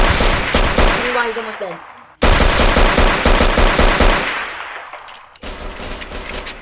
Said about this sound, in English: Bro realized there was a gunfight going on here.